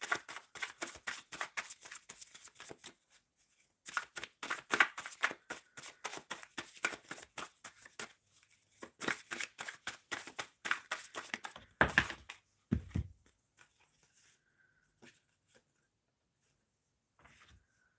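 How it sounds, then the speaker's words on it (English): Tarot cards are shuffled by hand in close, soft bursts of riffling and sliding, repeated in uneven clusters with short pauses before a final quiet stretch. "I'm just pulling cards for the collective because I was just kind of shuffling"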